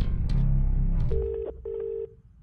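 A telephone rings in short electronic bursts with two sustained tones near the end, loud and close, with no talk over it.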